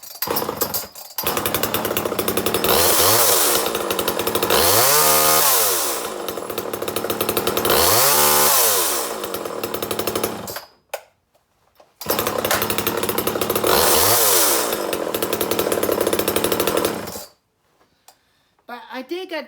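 A gas-powered chainsaw runs loud and close, its engine rising and falling through revving bursts, cutting off briefly, then roaring again before stopping.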